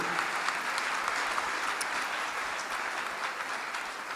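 A crowd applauds steadily and evenly throughout, a dense wash of clapping at moderate volume with no talk over it.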